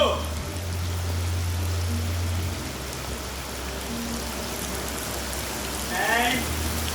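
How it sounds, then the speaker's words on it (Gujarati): Rain keeps up a constant hiss outdoors in Goa during a song shoot, with a low engine-like hum running beneath it for the first few seconds and a brief voice near the end. "એન્ડ વધી ગયો વરસાદ."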